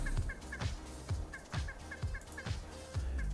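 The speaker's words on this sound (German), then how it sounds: "Hühner sind die genügsamsten Tiere im Spiel, da sie ohne ihr Zutun fröhlich Eier legen." Chickens cluck and gobble in a farming video game, with repeated regular calls at a steady rhythm, close and clear over a constant background, without speech.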